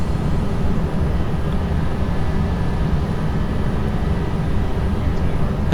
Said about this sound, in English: Whoa, sharp takeoff.